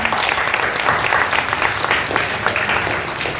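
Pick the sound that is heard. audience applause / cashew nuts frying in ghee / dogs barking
audience applause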